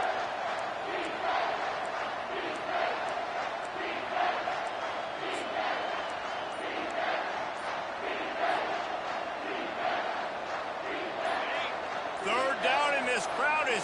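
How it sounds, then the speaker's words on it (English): Loud football stadium crowd roaring at an Auburn vs Wisconsin game, a sustained dense roar with rising bursts of cheering, heard at a distance under a commentator's voice. "This crowd is tearing the lid off this place."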